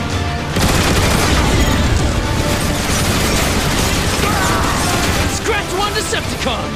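Heavy turret gun emplacements blast away in a Transformers War for Cybertron battle, a loud continuous barrage of booming shots and crashing impacts layered over dense combat noise, with voices mixed into the din.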